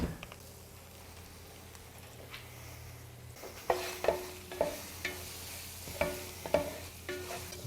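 Curry powder is stirred into a simmering coconut chicken curry, a quiet soft sizzle followed by a series of close utensil taps and scrapes against the pan in an irregular rhythm.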